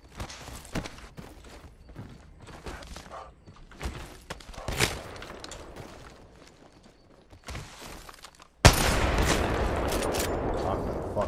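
Apex Legends gunfire rings out in scattered sharp shots over game noise, then gives way to a loud, sustained blast of noise that lasts to the end, with no one speaking.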